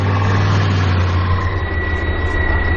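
A Bergepanzer Leopard armored recovery vehicle idles with a deep, steady diesel rumble, loud and continuous and close by, with a faint high whine above it.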